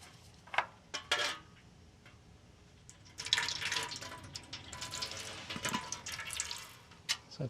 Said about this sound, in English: So I put a little bit of oil, just a little bit into the filter